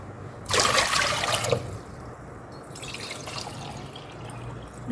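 Water pours from a pot into a pressure cooker in one short splashing gush up close, then a quieter trickle follows in a kitchen.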